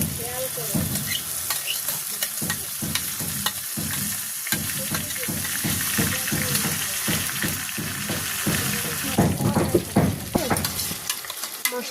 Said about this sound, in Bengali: পেঁয়াজটা আমার লাল লাল করে ভাজি হয়ে যাচ্ছে